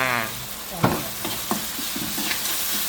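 Blanched pork head stir-fried in a pan with sugar and fish sauce for a spicy Thai stir-fry: a loud, steady sizzle with a few sharp spatula scrapes and clanks, after a brief voice at the start.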